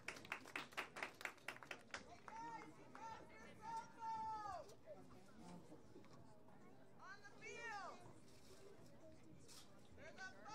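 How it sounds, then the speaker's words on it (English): A short burst of clapping from a crowd at a high school boys' varsity baseball game, then fading into lively chatter and children's voices as people talk nearby. "A round of applause for our sponsors"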